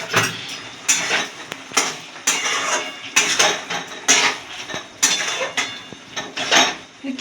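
A pot of shukto, a Bengali mixed-vegetable dish, is stirred with a utensil, producing a regular series of loud, close scraping and clanking strokes about every half second, with no talking.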